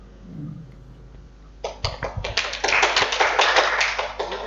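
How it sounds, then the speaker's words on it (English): Applause from an audience at a certificate presentation during a golf industry business talk, beginning as a few scattered claps after a quiet pause and then swelling into dense, steady clapping close by. "Big applause."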